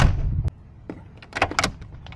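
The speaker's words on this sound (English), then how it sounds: "just listen to that door and your locks" A Mercedes-Benz G550 4x4 Squared door slams shut with a heavy, solid thud, followed by a series of sharp mechanical clicks and clunks from the locks, close and fairly loud with no talking.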